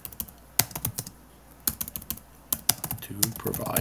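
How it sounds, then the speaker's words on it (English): Rapid computer keyboard typing in uneven bursts of close, crisp key clicks, with a faint voice briefly audible near the end. "Nice if I can type a little faster here"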